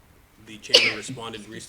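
A person sneezes once in a sharp, loud burst partway through a morning news discussion about minimum wage, with a man's speech continuing around it.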